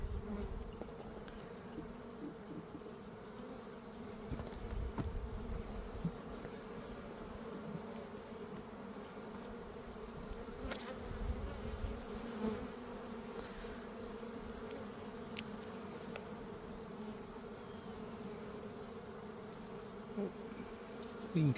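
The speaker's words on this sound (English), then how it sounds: "Busy bees, busy like a bee." Dense, continuous humming of a crowd of bees around an open hive, steady and close, with faint rustling handling noises.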